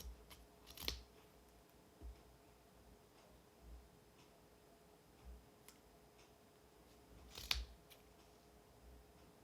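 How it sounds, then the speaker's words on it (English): Scissors snip through yarn wound around a pom-pom circle in a few sharp, separate cuts spaced over several seconds, close and fairly quiet against a soft background hiss. "So I'm going to cut around the whole circle."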